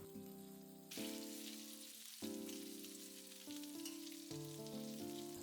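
Pork tsukune meatballs brown in a frying pan with a steady, soft sizzle, while a tonal musical backing plays over it.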